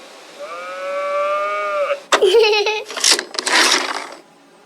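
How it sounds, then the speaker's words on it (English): Cows moo in the video game That Dragon, Cancer: one long, drawn-out moo, then a burst of several lively moos and bellows tumbling together, clear and close. "Farmer Bill plays hide and seek with the cows."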